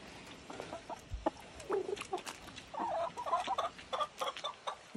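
Hens clucking and a rooster calling inside a muddy henhouse, several birds close by with overlapping clucks and short squawks, busier toward the end.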